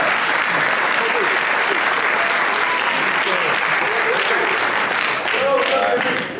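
A crowd at a leadership summit applauds steadily for standing alumni, dense and loud clapping that holds for several seconds with a few voices mixed in.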